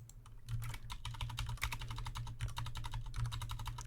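A URL being typed on a computer keyboard, a rapid, steady stream of close, crisp key clicks with brief pauses, heard alone.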